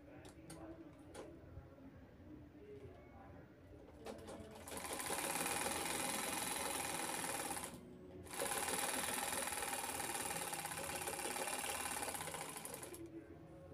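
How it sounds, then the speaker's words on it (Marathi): A sewing machine stitches all the way around the edges of a simple cloth bag, made without foam or a zipper. After some quieter handling it runs in a steady, loud whir, stops briefly, then runs on again. "साईडनं आपल्याला पूर्ण टिप मारायची राऊंडमध्ये"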